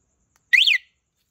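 A single short, loud electronic chirp from a Yamaha Sight motorcycle alarm as it locks, close by and alone.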